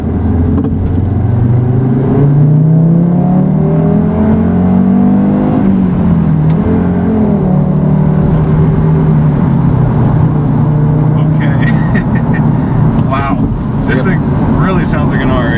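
A 2013 Audi TT RS engine runs loud and close, its pitch climbing and falling through several revs before settling into a steady drone, with people talking over it toward the end.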